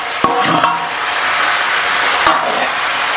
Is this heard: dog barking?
no